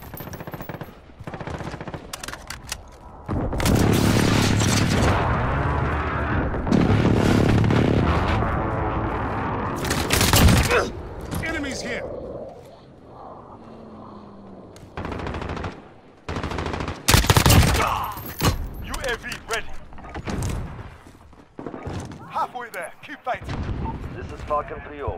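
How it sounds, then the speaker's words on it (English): Precision airstrike explosions and rolling gunfire in Call of Duty Modern Warfare, with loud heavy bursts and booms coming in waves and briefly dropping away between them, under clipped radio voices. "Friendly precision airstrike."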